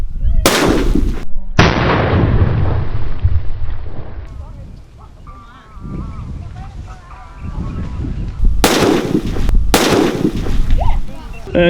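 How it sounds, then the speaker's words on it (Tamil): A 4-inch special sugar nattu vedi firecracker explodes in loud, sharp blasts: one near bang early on, a gap with someone talking, then a second pair of heavy bursts with echoing rumble. "இந்த வெடி வந்து நாலு இன்ச்சில் ஸ்பெஷல் சுகர்னு சொல்லக்கூடிய வெடி இது"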